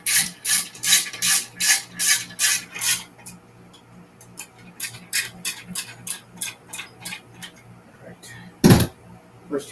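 Screws turned by hand into flat-pack furniture during assembly: rhythmic rasping ratchet-like strokes in quick bursts, pausing and resuming, close up with a sharp knock near the end.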